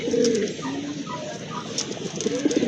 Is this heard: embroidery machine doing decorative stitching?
no